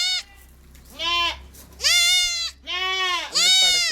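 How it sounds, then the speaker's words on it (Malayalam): A goat bleats four times in close succession, loud and near, each call a wavering nasal cry with brief pauses between. "നല്ല ആടാണ് കണ്ടില്ലേ"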